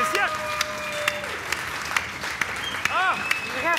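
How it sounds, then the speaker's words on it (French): An audience at a live comedy role-playing show claps and cheers for the adventurers, a steady dense wash of applause lasting throughout with whoops and raised voices rising over it near the end. "félicitations, on peut les applaudir,"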